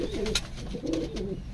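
Pigeons coo in short repeated throaty phrases, close and moderately loud, with a few soft wing or rustling sounds between the calls.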